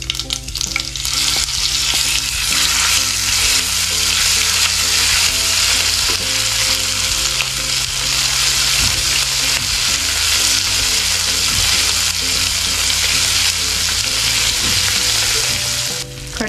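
Cumin, onion, garlic and ginger paste fry in a hot pan, a loud, continuous sizzle with the scrape and clatter of stirring close up, steady from start to finish with no talk.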